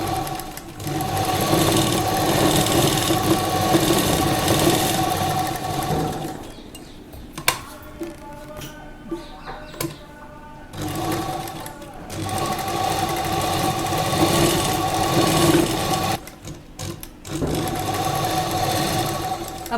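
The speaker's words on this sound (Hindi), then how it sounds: "यहाँ से सिलाइयाँ लगाते हैं" A sewing machine stitches a double slit princess cut kurta, whirring steadily and close up in long runs. Brief stop-start pauses break the middle stretch, with no talk over it.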